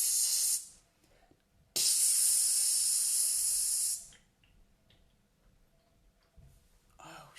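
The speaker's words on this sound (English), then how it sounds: "I actually feel like I've just sprayed it on myself then" Perfume sprays from an atomizer in two sharp, loud hissing bursts, a short one and then a longer one lasting about two seconds. Quiet room sound follows, with faint handling noises at the end.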